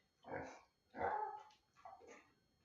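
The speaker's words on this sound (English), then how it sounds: "If you're wondering what that noise is, it's my pet pig." Three short, throaty pig grunts come in separate bursts, the middle one loudest, close to the listener with quiet pauses between.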